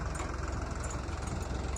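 A John Deere tractor, a 5105 or 5050D 4WD set up for potato digging, idles with a steady, close, low mechanical drone and no talk.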